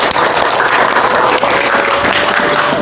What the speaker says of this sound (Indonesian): Tepuk tangan lagi kepada peserta yang paling pintar.